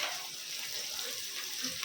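Cinnamon, bay leaves, cloves and onion sizzling in hot oil while tempering for jackfruit seed and green pea pulao: a steady, close, bright crackling hiss with no pause.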